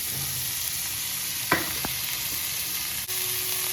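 Tomatoes sautéed in a pan for Bombay sambar give a steady, close sizzle that runs throughout, with a couple of brief stirring scrapes partway through.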